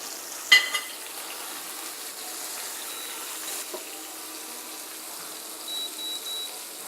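Curry-crusted lamb sizzles in a hot pan with a steady, soft frying hiss. A sharp clank sounds near the start, and a few faint scrapes follow.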